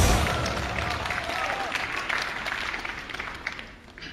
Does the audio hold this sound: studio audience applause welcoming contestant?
yes